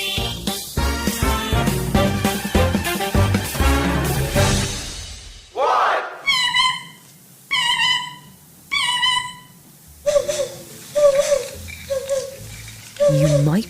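At a bird call contest, people on stage imitate bird calls with their voices, producing bursts of whistled, warbling tones separated by short pauses, after an opening stretch of musical sound.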